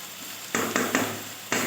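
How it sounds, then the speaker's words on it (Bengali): Bitter gourd and potato frying in oil in a pan, heard as a low background hiss broken by several sudden bursts of louder sizzling, as if pieces are stirred or turned. "ভালো করে ভেজে নিচ্ছি"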